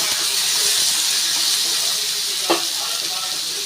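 Tomatoes mixed into a hot pan for spicy urad dal chutney, a steady hissing sizzle with one short scrape of a spoon partway through, close and even.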